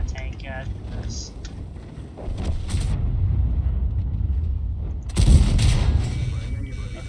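A tank cannon round slams into a tank in World of Tanks, one heavy booming impact that breaks out above the rumbling engine and battle noise, with someone talking throughout.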